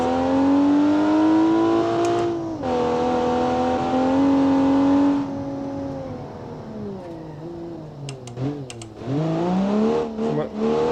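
A sports car engine in BeamNG.drive revs and holds steady, dips, then climbs again with sharp shifts, a continuous synthetic roar with no talking.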